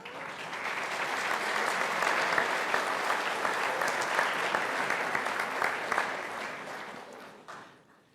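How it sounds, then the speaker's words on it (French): An audience at a security forum, including school pupils, applauds steadily and fairly evenly for about seven seconds, a dense mass of claps at moderate distance that tapers off at the end. "vous pouvez vous applaudir"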